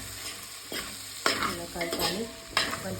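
Food is stirred in a frying pan with short scraping strokes, several separate stirs over a soft steady sizzle, close and fairly quiet with no talking.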